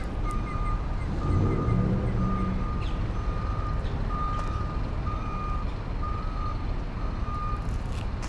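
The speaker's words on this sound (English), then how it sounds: "Not so good timing with that damn bus backing into a parking spot" A bus backs into a parking spot on a city street in Sydney, its reversing alarm sounding a steady, evenly spaced series of loud beeps over constant engine rumble and traffic noise, with no talking.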